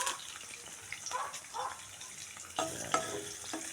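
Garlic and onion frying in a pan for pork adobo give off a soft sizzle and crackle, with occasional stirring scrapes and a louder burst of sizzling near the end.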